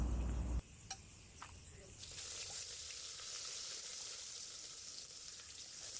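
Cinnamon, cloves, cardamom and onion hitting hot oil and ghee in a cooker, a soft steady sizzle that starts after a brief louder moment and continues faintly, with a few light clicks.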